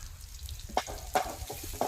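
Tempering with asafoetida frying on a low flame for a lentil mash, a soft sizzle under a few distinct spoon scrapes and stirring clinks, close by with no talking.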